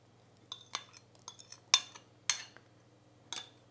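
A spoon scrapes and clinks lightly against a bowl while lemon cake batter made with oil and yogurt is mixed by hand, giving a few sparse, quiet taps and knocks over a soft background hum.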